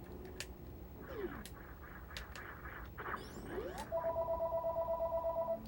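A house phone system rings in a parents' home with a pulsed electronic warble that starts late and repeats rapidly, after a stretch of chirpy, honking electronic blips.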